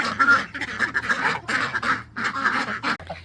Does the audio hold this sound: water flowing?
no